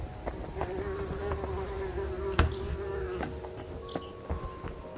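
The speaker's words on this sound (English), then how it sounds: "I hear bees. I don't like bees." Bees buzzing around flowers in a woodland garden in the video game Kingdom Come Deliverance 2, a continuous close insect drone with wavering pitch and a few sharp knocks, no talking.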